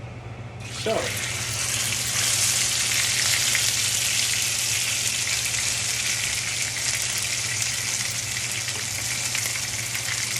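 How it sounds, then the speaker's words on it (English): Panko-crusted lemon salmon searing in very hot oil, a loud, steady, hissing sizzle that bursts in and holds unbroken at close range. "So we put this into the hot oil, and it's beginning to cook."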